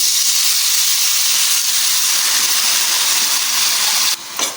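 Washed gongura leaves dropped into hot oil give a loud, steady sizzling hiss that holds for several seconds, close up, before it briefly dips near the end.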